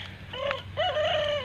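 Pekin bantam chickens call out close by, one drawn-out tonal cry followed by a longer, rising and sustained call over a low background hum.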